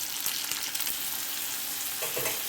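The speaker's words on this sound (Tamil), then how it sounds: "இப்போ தக்காளி வதங்குற அளவுக்கு நல்லா வதக்கிக்கலாம்" Tomatoes with turmeric sautéing in a pan for a brinjal biryani gravy, a steady close sizzle with light stirring.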